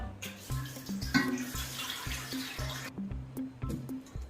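Raw green plantain pieces washed by hand in water for a traditional Malabar koottan, with continuous splashing and sloshing close by, steady and moderately loud, no talk.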